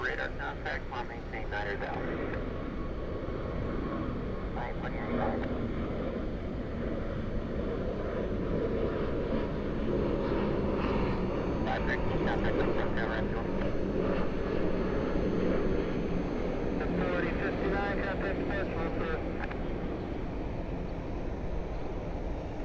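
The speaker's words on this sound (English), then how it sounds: "The other Frontier taking off." A Frontier Airlines plane taking off at Cleveland, its engines a steady broad roar with wind noise that holds throughout, heard from a distance under occasional talk.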